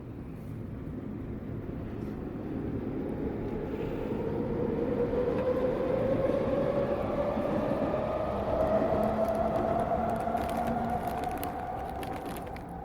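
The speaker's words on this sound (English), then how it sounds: "Here comes another train." A train passes by, its steady rumble swelling as it draws nearer, peaking midway, then slowly easing off, with a faint rising tone riding over the noise; no one talks.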